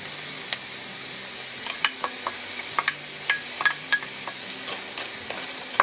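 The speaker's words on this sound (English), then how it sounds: "Let's mix this before we add our cauliflower." Carrots and peas are sautéed and stirred in a frying pan during meal prep, with a steady sizzle under repeated close clicks and scrapes of a utensil against the pan.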